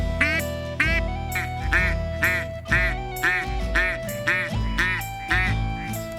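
Ducks quack repeatedly in a steady, rhythmic chorus over layered music during a duck hunt, loud and close with a droning tone underneath.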